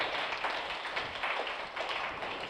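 A church congregation at a novena Mass claps in thanks, a dense, even patter of many hands that carries on steadily at moderate distance with no voices.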